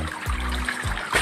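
Water pushed up by a 24-volt, 24-watt submersible pump trickles and splashes steadily through a vertical crab farming rig, with brief low gurgles recurring in a continuous close flow.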